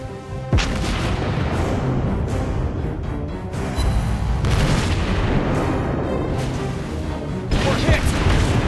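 Heavy explosions and booming artillery-like blasts from a warship being struck during a naval battle video game, loud and continuous with rumbling impacts and crashes throughout.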